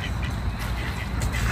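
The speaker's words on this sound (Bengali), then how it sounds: "হাঁস এক উড়ালে পার্কে থেকে পানিতে পড়ে" A duck quacks at a park pond, its calls blending into a steady, noisy outdoor background for a brief moment.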